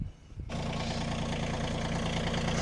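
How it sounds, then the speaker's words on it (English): A KIOTI tractor's diesel engine catches after a brief quiet moment and then idles loudly and steadily close by, with a constant low rumble and no voices. "I think our tractor's probably warmed up."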